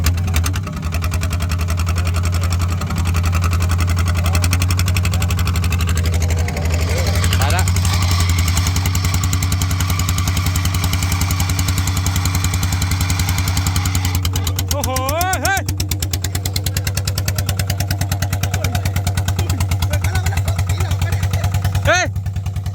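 Driverless remote-controlled paddy field tractor runs with a steady buzzing engine drone throughout, revving in second gear, while people nearby talk and call out over it.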